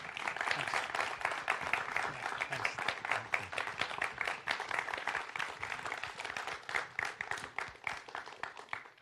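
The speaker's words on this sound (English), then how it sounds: "Let's give Chris Hedges another round of applause." Conference audience applauding after a keynote speech, a sustained round of clapping with distinct individual claps audible throughout, fairly even in loudness and fading slightly toward the end.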